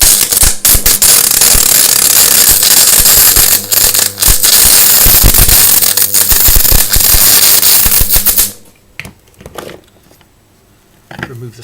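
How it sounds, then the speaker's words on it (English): Arc welding onto a snapped stud in aluminium: loud, dense crackling and sputtering for about eight seconds, then cutting out to near silence with a few faint clicks. "Put a blob more weld in there."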